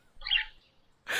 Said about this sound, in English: You're a loud ass bird, dude.